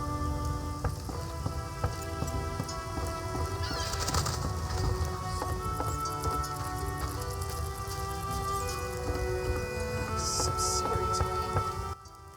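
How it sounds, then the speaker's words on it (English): A heavy downpour pours steadily onto surfaces, a dense continuous rain roar with scattered louder drips, heard close for about twelve seconds while faint voices murmur beneath it. "Some serious rain."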